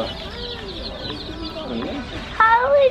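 Chickens in a store clucking and cooing at close range, several short rising and falling calls with a louder burst near the end, under a background of indoor voices.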